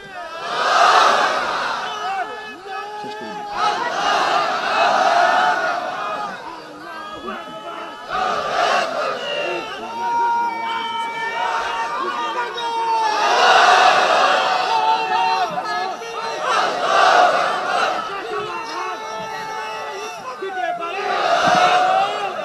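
A large crowd chants religious slogans in unison at a Bengali Islamic sermon gathering, repeated loud rhythmic shouted calls answering a leader, with voices swelling and falling throughout.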